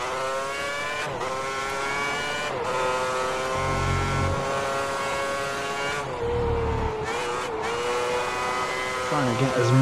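A 2010 Formula One car at the Malaysian Grand Prix at Sepang screams around the track, its engine rising and dropping through gear changes with a few deep downshift bursts, loud and close, under a commentator's steady talk.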